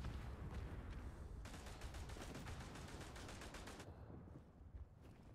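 Sustained gunfire rattles through a WW1 trench battle in the game Verdun, a dense, rapid stream of shots that stays steady, then thins and fades near the end, with no talk over it.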